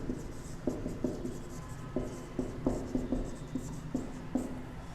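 Marker or chalk writing on a board during a maths lesson, a quiet series of short scratchy strokes and taps repeating at an irregular pace over a low room hum.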